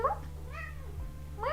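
A pet cat meows indoors, one rising call at the start, a softer drawn-out mew in the middle and another meow at the end, fairly close over a steady low hum.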